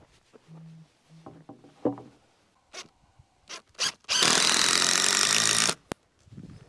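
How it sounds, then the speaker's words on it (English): A power drill drives screws into barn framing lumber, with a few short whirring bursts followed by one long, loud sustained run near the mic, set between quieter knocks and handling sounds. "I put some screws in there just because that's easier to do one-handed"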